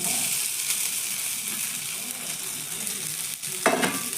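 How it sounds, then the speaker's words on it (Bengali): Grated potato going into spices and curry leaves frying in a pan, a steady close sizzle with a sharp burst of crackling as the potato hits the hot oil near the end. "এবার দিয়ে দিচ্ছি আমি গ্রেট করে রাখা আলু"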